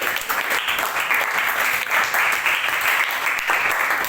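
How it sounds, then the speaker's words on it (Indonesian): A class applauding in a classroom: sustained, fairly loud clapping from many hands, dense and even, with no one speaking over it. "tepuk tangan."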